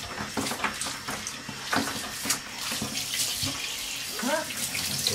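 Tap water runs and splashes during a puppy's bath with puppy soap, an uneven stream with intermittent splashing and handling noises close by, plus a brief squeak or whine near the end.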